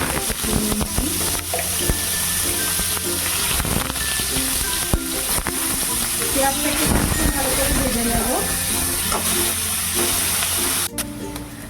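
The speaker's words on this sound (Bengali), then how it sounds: "দেখো পেঁয়াজটাকে আমি ভালো করে ভেজে নিলাম" Chopped medium onion with nigella seeds frying in oil for potol bharta, a steady close sizzle and hiss running throughout with occasional stirring scrapes, a voice talking over it at times.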